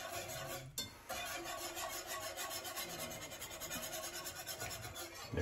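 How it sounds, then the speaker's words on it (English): A whisk stirring tomato paste in a cooking pot, giving continuous close scraping and rubbing with a quick rhythmic pulse and a brief pause near the start. "Just keep stirring. We're going to be using our whisk at first"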